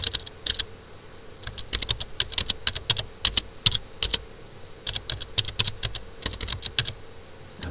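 Fast irregular clicking of keys on a computer keyboard, typing in short bursts with brief gaps, close-up and crisp, ending with keystrokes such as a press of Enter.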